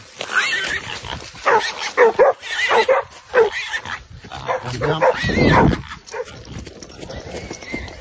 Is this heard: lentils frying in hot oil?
no